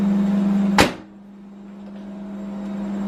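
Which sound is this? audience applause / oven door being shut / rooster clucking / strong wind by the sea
oven door being shut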